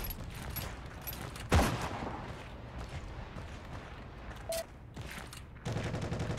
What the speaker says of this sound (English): If I had to guess, mounted MG in that window again?